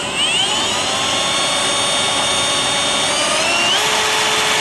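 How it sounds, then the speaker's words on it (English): Power drill boring holes in thick steel for self-tapping screws, a loud continuous high whine with a steady pitch that shifts slightly near the end, close and alone. "now that we have these holes drilled out for the self-tapping screws"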